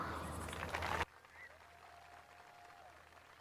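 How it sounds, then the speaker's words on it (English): Crowd applause at a 2024 high school football homecoming night honoring the homecoming court, a loud burst of clapping for about a second before it cuts off abruptly, leaving quiet background. "Let's have another round of applause for your 2024 DHS Football Homecoming Court."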